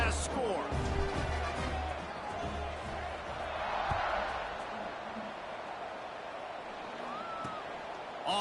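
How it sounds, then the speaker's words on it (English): A college football video game crowd, NCAA 26, buzzes steadily in a large stadium after a score, a broad roar with swells of cheering while a commentator's voice carries over it. "this crowd is buzzing after that last score"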